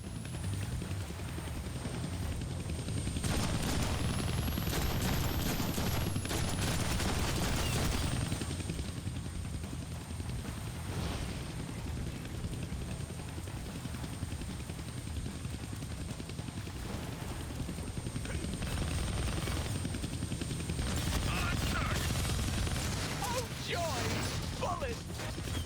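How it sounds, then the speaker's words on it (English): A helicopter boss in the 2013 Deadpool PC game thunders steadily overhead for the whole stretch, its rotor drone mixed with bursts of gunfire and mechanical clatter, and speech comes through over the noise. "you can't hijack a chopper while it's flying around trying to turn you into shredded cheese?"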